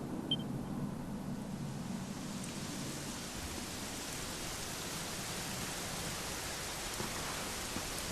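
Steady rain in the video game Dragon Quest XI hisses evenly throughout, a dense wash of falling drops with no pauses and no voices.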